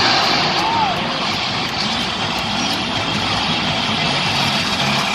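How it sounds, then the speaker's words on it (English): A loud, steady monster truck engine roar, running rough, runs throughout, sustained with no clear breaks, heard from a distance over crowd noise at a Monster Jam event. "that truck really does not sound good right now"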